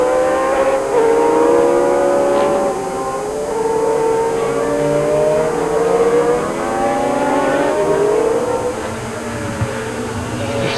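Historic Formula 1 racing cars, including a Tyrrell, brake hard into a hairpin at Magny-Cours. Several engines whine down through the gears, loud and close, as the cars pass one after another.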